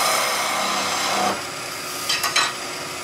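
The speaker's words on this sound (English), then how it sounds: "Trim up the end. Make sure they're the same length" Wooden nutcracker part spun on a wood lathe as the end is trimmed: a broad, loud rushing hiss of cutting for just over a second, then quieter running with two or three short scraping tool touches near the end.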